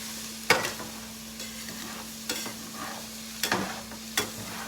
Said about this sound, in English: I'm just going to take my spatula and scrape it good.